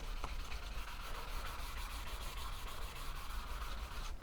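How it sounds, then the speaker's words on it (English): Fine sandpaper rubs along the edge of an iron short sword blade in a rapid, even back-and-forth rasp, close and continuous for several seconds with no talking. "I'm just going to carry on going over with this fine sandpaper"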